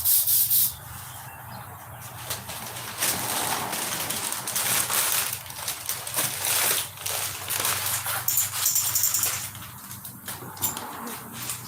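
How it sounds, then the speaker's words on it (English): Steady, rough rubbing strokes of sanding on a surface, close and continuous with a rhythmic back-and-forth texture, with a few faint sounds in the background. "Yeah, sand it out."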